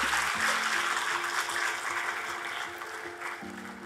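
An audience applauds steadily to welcome a Supreme Court of India judge at a law school moot court inauguration, a dense wash of clapping that slowly eases over a few seconds.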